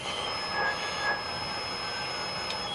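A Joule thief circuit's tiny transformer emits a high, steady electronic whine with faint hissy noise underneath, continuous and fairly quiet with no speech.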